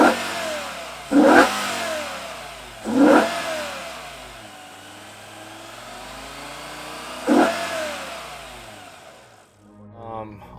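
BMW E60 M5 with Eventuri intakes, engine droning on a drive with three sharp loud revs rising above the steady hum, captured close up.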